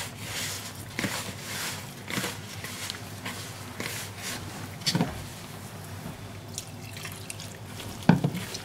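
Water is added a little at a time to corn flour dough for radish-stuffed makki roti, giving intermittent wet splashes and drips over a steady kitchen background, with a few sharper knocks near the end.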